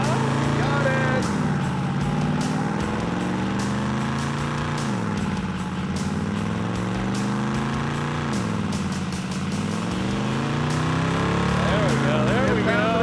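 Car engine of a pro street build revving near 2,900 RPM with audible pinging, a loud continuous drone that rises and falls in pitch several times while people talk over it.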